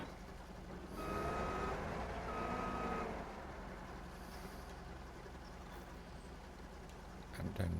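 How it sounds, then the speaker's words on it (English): A truck in Farming Simulator 25 reverses with two evenly spaced electronic beeps over a loud, steady engine drone, followed by continuous engine noise with no further beeps. "somehow I need to bring the truck back so that I can deposit the wheat"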